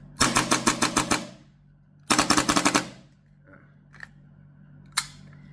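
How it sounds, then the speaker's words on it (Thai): A Marui Hi Capa 4.3 airsoft gas pistol running on 12 kg gas fires two quick rapid bursts of sharp cracks, about seven shots each. A few isolated single shots follow in a quieter room. "เดี๋ยวขอรัวๆยิงแบบ ดูเร็วเลยนะครับ แก๊สสิบสองนี้จะบินไหมนะครับ"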